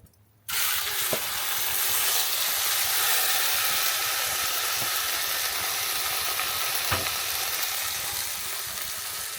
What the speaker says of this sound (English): Alright, let's sear our roast. We're gonna get a good sear on this.